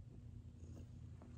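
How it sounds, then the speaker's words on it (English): A domestic cat purrs close by, a faint, steady low rumble with a gentle pulsing rhythm and no other sounds. "these little kitties must have known I needed some love"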